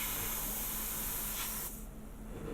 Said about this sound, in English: I'm just going to quickly clean up my airbrush